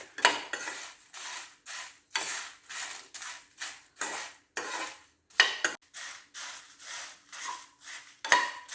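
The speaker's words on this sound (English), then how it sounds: "in the hot pan I'm going to roast the desiccated coconut" Desiccated coconut is stirred in a hot pan, giving repeated close scraping strokes of a spoon against the metal, a steady back-and-forth rasp with short gaps between strokes and no talk.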